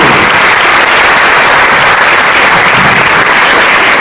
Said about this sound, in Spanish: Aplaudan todos, por favor.